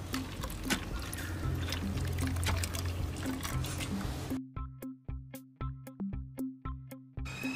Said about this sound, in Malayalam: ഈ തേങ്ങാപ്പാൽ ഇതിലേക്ക് ഒഴിച്ചു കൊടുക്കണം വേണ്ടത്